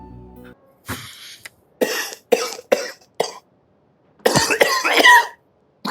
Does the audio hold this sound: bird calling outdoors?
no